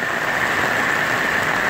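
Steady rain hiss, dense and even throughout, with no talking or other distinct sounds.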